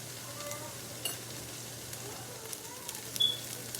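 Sweet and sour chicken simmering in a pan on medium-high heat, a faint, steady low sizzle and bubbling with a few small clicks, heard close but quiet with no talking.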